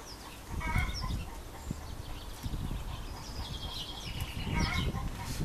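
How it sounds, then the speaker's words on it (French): Chickens cluck intermittently at a distance against a soft outdoor background, with a few higher calls mixed in. "vous allez peut-être entendre des poules, parce qu'on a tous des poules autour de chez moi"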